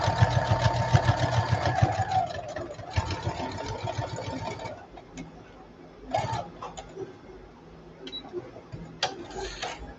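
A sewing machine runs steadily while hemming jeans, loud and continuous for several seconds before slowing to shorter, intermittent bursts of stitching.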